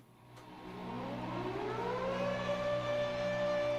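Intro of a song plays: a rising siren-like wail climbs in pitch and then holds a sustained tone over a low droning bed, growing steadily louder, with no voices.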